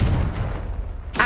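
A Confringo explosive spell cast in Hogwarts Legacy, a short, heavy booming blast that rumbles low and then fades, followed by a brief bright burst at the end.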